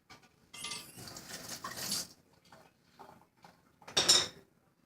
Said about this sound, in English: you can mix it again with your spoon prior